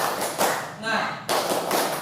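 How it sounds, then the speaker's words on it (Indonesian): A classroom of students doing the 'tepuk semangat' spirit clap: dense bursts of group clapping in a quick rhythm, pausing briefly and then resuming, with voices mixed in. "Baik, sekali lagi ya. Tepuk semangat."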